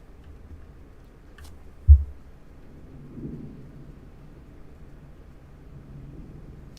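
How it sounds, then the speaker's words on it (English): Distant thunder gives one sharp low thump followed by a soft rolling rumble, faint against a quiet background. "You can hear the thunder is making my plop talk."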